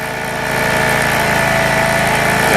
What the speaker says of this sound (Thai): สว่านกระแทกนะครับผม